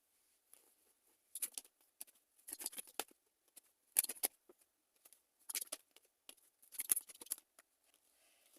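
Tarot cards are handled and drawn close by: soft papery flicks, snaps and shuffles come in short, quiet bursts separated by near silence, with no talking.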